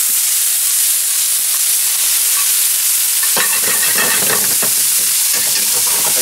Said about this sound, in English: we're gonna caramelize the mushroom. So we're gonna cook it for about, I would say 5 minutes or so.